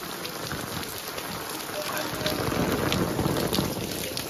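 Heavy monsoon rain pours down over farmland beside a swollen river, a dense steady hiss of drops with wind buffeting the microphone, growing slightly louder toward the end.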